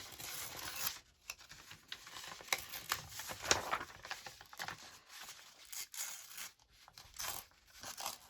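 Paper ripped by hand for collaged postcards, a dense run of crinkling tears and rustles at close range, continuous with small peaks, no talking.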